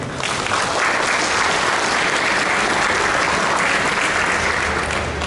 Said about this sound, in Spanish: Cedo la palabra a la doctora Fernandini, recibámosla por favor con un fuerte aplauso.